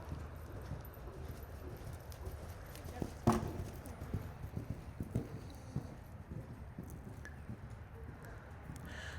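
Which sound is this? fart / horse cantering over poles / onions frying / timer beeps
horse cantering over poles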